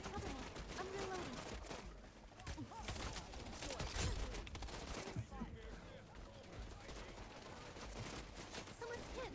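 Gunfire in the Wild Assault shooter game, dense overlapping bursts and shots crackling steadily throughout amid a busy, chaotic battle mix with voices in the background.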